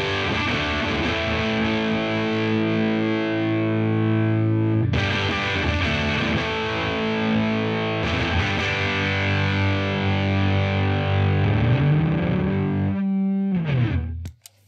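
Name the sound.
guitar through Devi Ever BDSM distortion pedal, on one of its settings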